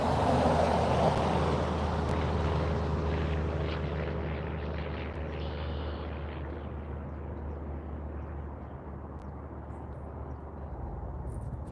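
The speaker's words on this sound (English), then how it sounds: "I apologize for the traffic noise out here." Steady traffic roar from a major highway and a nearby road beside a fishing pond, a continuous broadband rumble that stays loud and unbroken throughout with no talking.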